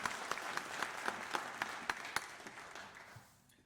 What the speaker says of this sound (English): if you could all give them a round of applause for what they did today